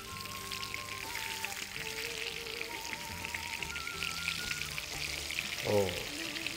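Pineapple frying in a pan for an Iftar dish gives a steady close sizzle and crackle of hot oil throughout, beneath background music.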